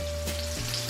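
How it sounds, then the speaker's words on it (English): IKEA-style Swedish meatballs fry in a hot pan, giving a steady, close, loud sizzle with a low hum beneath; partway through the hiss brightens and shifts tone as the food is moved. "Look at these babies sizzle."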